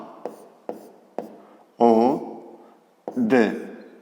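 Chalk or a marker taps and scratches across a board in a few short strokes during a math lesson, close and fairly faint, between bursts of a teacher's speech.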